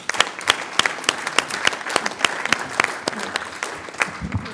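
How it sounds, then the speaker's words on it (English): An audience at a board offsite meeting claps for its presenters: a short, moderately loud round of applause with distinct individual claps from a modest group, fading slightly toward the end. "Let's give our presenters a last round of applause."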